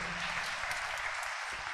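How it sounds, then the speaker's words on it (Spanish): Applause from a church congregation during a bilingual Spanish and Q'anjob'al reflection, a steady, dense wash of clapping lasting the full stretch at moderate distance with no voices over it. "Fuertes palmas"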